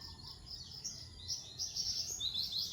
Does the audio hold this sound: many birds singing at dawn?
yes